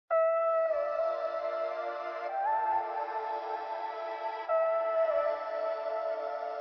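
Chopped vocal stabs drenched in reverb and bandpass filtering sweep back and forth across the stereo field, each sustained tone trailing into an Echo Boy style delay, with three distinct stabs sounding alone in a quiet, dark ambient beat.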